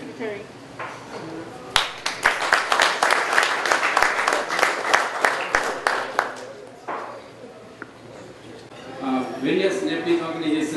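A crowd at an America Nepal chamber of commerce event in Los Angeles claps steadily for several seconds, dense and moderately loud, then the applause fades as a voice begins speaking.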